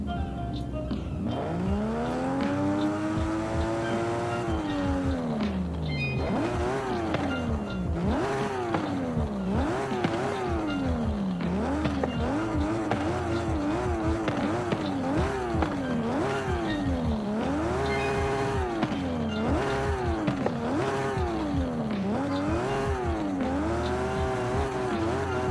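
A 780 hp Nissan Skyline R34 drift build in Forza Horizon 5 revs hard and continuously, its engine pitch sweeping up and down in rapid cycles through gear changes, loud and close with faint tire squeal throughout.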